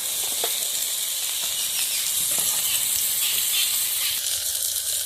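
Cinnamon, cardamom and cloves sizzling in hot oil left over from frying prawns, a steady bright hiss with faint crackles, continuous and fairly close.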